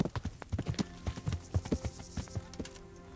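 Horse hooves clip-clop in a steady, brisk rhythm in the video game Kingdom Come: Deliverance, close and clear, with no voices over them.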